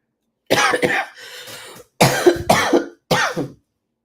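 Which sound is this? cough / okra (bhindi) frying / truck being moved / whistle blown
cough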